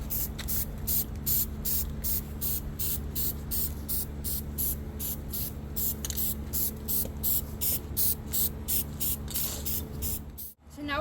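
Black spray paint mists over red on a skull in rapid short bursts, a pulsing loud hiss from a nearby can that runs almost without a break and stops abruptly near the end.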